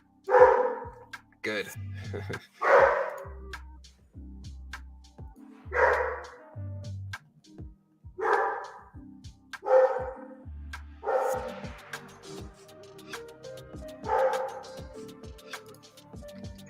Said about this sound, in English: You hear this dog, bro? This dog is angry